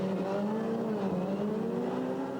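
A four-wheel-drive Opel Astra rallycross car running at a distance, a faint engine tone rising and falling slightly as it drives through a rally stage.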